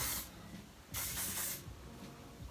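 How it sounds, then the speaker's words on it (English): Hairspray hisses onto hair in three bursts: a short one at the start, a long loud one in the middle and a faint brief one near the end. No one speaks. "Now I'm gonna flip my hair over and spray underneath my hair."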